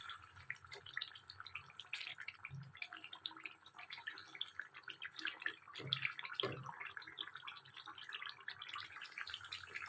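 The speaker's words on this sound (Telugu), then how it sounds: "ఇప్పుడు అల్లం పేస్ట్తో బాగా వేగుతూ ఉంది కదా" Ginger paste fries in a pan with a faint, continuous crackling sizzle and occasional soft stirring knocks.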